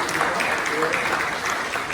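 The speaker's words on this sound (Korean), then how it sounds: "지난주에도 우리 축하 박수 했지만 또 박수 또 하죠." A church congregation applauds during a Sunday worship service, a dense, steady patter of many hands clapping at close range, with faint voices mixed in.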